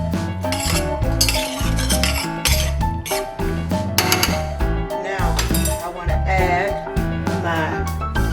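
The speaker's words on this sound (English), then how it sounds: "Okay, so I'm going to stir that around in here." Cottage cheese and sour cream stirred together in a bowl for baked mac and cheese, with a utensil repeatedly clinking and scraping against the dish in a quick, uneven rhythm, close and fairly loud.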